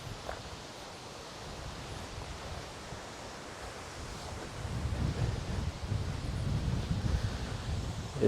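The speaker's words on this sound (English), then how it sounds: "It's getting very windy out." Wind gusts through an outdoor cemetery on a rainy day, a broad rushing roar that starts moderate and grows louder and more buffeting low against the microphone halfway through.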